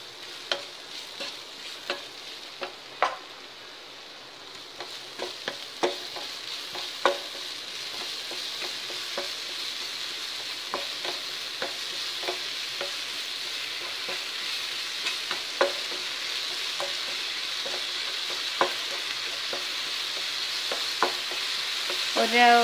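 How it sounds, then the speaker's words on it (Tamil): Banana slices frying with sugar in a pan, a soft continuous sizzle broken by irregular sharp clicks and scrapes of stirring, close and fairly quiet with no speech. "இப்போ நம்ம நல்லா கொஞ்சம் சாஃப்ட் ஆகிற வரைக்கும் ஃப்ரை பண்ணலாம்."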